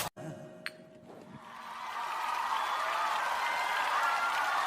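Audience applause at a comedy show interview builds from a quiet, clinking start into a steady wash of many hands clapping, with a voice heard briefly at the start.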